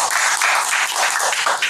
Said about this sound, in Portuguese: a salva de palmas que merece